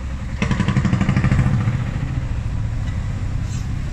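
A motorbike arrives at a vintage vehicle show, its engine giving a close, loud, throbbing rumble that peaks early, then settles to a steadier idle-like drone amid outdoor background noise.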